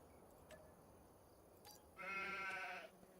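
A sheep in the Farming Simulator 25 video game gives one clear, wavering bleat of about a second, preceded by a couple of faint clicks over quiet background hum.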